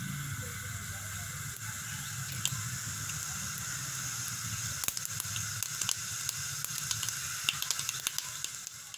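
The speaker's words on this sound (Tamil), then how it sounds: "எண்ணெய் ஊற்றி கொஞ்சம் உளுந்தம் பருப்பு கடுகு போட்டுருவோம்" Continuous hiss of hot oil with scattered sharp pops and crackles as mustard seeds and urad dal splutter, building in density toward the end.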